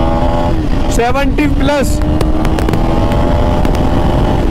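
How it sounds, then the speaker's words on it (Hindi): A KTM Duke 250 Gen3 motorcycle pulls hard in second gear on an open road, its engine note rising loudly under steady wind roar while the rider speaks briefly. "देखो दूसरे गियर में उठा रहा हूँ"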